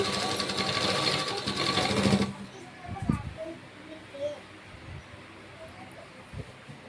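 A sewing machine stitching lining cloth runs with a fast, close mechanical whir for about two seconds, then stops, leaving quieter handling clicks and a speaking voice.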